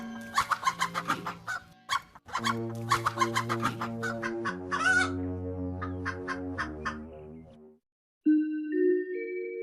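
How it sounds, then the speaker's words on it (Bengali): A cartoon chicken clucks in rapid, close, bright bursts, then lets out longer drawn-out squawks, ending with a short musical flourish after a brief pause. "মুরগিটা শাকচুনির মুখে খামচি আর ঠোকর দিয়ে তার কাছ থেকে পালিয়ে যায়"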